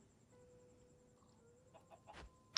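A chicken in Minecraft Dungeons gives a few soft clucks near the end, faint and close, over quiet game ambience.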